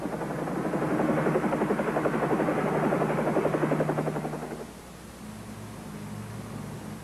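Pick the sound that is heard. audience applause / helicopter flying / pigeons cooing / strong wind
helicopter flying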